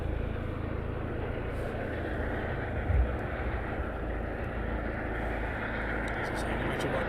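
RAF training helicopter carrying an underslung load, a steady loud rotor and engine roar filling the scene with no break, while someone talks over it.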